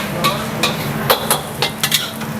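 Seafood fried rice is stir-fried in a pan at a busy street-food stall, with a spatula scraping and clanking against the metal in quick irregular strokes over a constant sizzle.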